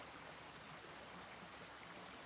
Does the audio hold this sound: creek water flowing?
yes